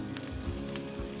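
Two tomatoes, jalapeños and onion roasting in an oiled pan, with a soft, steady sizzle and faint crackle across the whole moment, fairly quiet with no voices.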